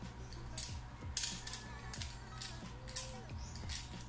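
The side pin screw of a Topoint Top X Pro carbon bow sight is loosened by hand, giving faint, close-up ratcheting clicks and small creaks in an irregular rhythm against a quiet room.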